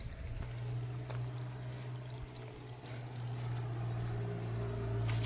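Water runs steadily down a rocky waterfall channel, a continuous moderate rushing and trickling close by, with a low steady hum underneath and no talk.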